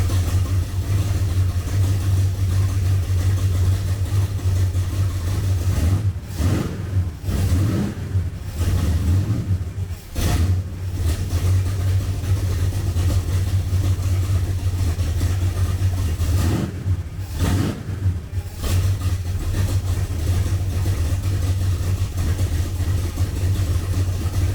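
A 1967 Ford Falcon stock car engine idles steadily and loudly up close, a continuous low rumble with a few brief surges midway and again near the end, and no talking.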